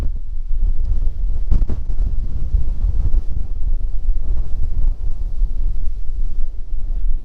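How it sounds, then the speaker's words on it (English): Strong wind whips around a Lake District mountain tarn, a loud, steady buffeting roar with gusty low rumbles against the microphone and no voices. "the wind is just whipping around everywhere"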